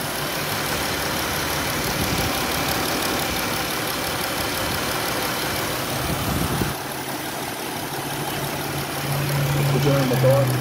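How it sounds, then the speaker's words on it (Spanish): A car engine runs steadily after a fuel pump repair, a close, continuous idling rumble that grows slightly louder near the end, with a person talking over it. "Escuchen el motor"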